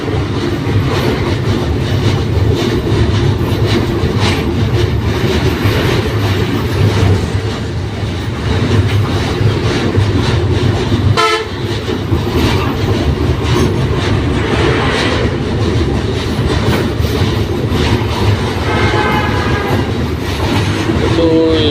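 A train rumbles continuously close by crossing the Jamuna rail bridge, wheels clattering on the track, with a brief horn-like tone and some squealing toward the end.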